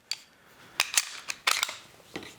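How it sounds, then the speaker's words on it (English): Sharp metallic clicks and snaps come from a SIG P320 pistol being taken apart at close range, a handful of quick, irregular slide and part clacks with quiet pauses between them. "Let's tear this one down real quick"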